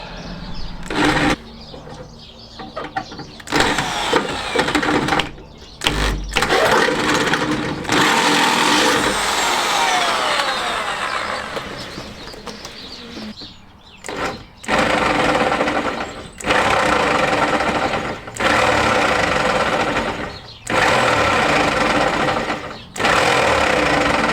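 A power drill grinds steadily through the metal engine tinwork of a classic Fiat 500 in long bursts, stopping and restarting several times, loud and close.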